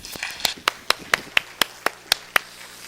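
A church congregation applauds after a testimony, a sparse run of about ten sharp, evenly spaced claps rather than a full ovation, crisp and fairly close.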